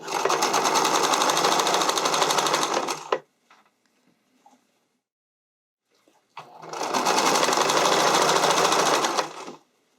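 A sewing machine stitches a skating dress in two loud, steady bursts of rapid needle whirring, separated by a few seconds of near silence with faint handling clicks.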